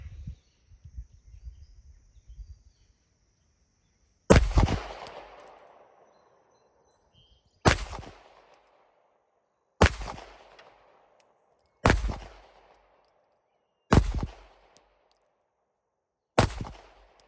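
A Glock 19 Gen 5 pistol fitted with a Radian Ramjet compensator fires six single shots outdoors, each a sharp, loud crack spaced about two seconds apart, following some faint handling noise.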